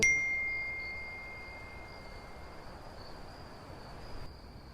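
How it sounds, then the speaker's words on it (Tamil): A short bright two-tone chime of a phone message notification sounds at the start and then fades, leaving a faint sustained ringing tone over a quiet room hiss. "பாரு, சந்தியா தான் மெசேஜ் அனுப்பிச்சிருக்கா"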